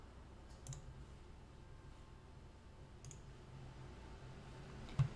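A computer mouse clicks a few times while an image is set as a featured picture in a web menu editor. The clicks are faint and sparse, spaced over quiet room tone.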